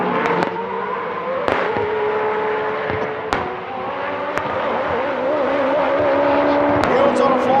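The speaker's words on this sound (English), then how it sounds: "Full commitment here from Tim Slade and Extreme GTR" Nissan GT-R time attack race car at full throttle during a time attack event, a loud engine roar rising in pitch with sharp pops and bangs at gear changes.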